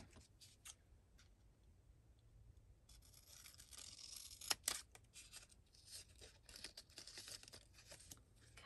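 Scissors cut through paper for a mini journal, a quiet run of close snips and crinkly rustles with a sharper burst of cutting midway, no voices.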